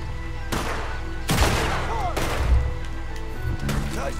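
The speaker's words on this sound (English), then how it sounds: "Nice shooting, Arthur." Gunfire in the Red Dead Redemption 2 video game, several loud sharp shots fired at irregular intervals over a steady low rumble of in-game background sound, with no talking.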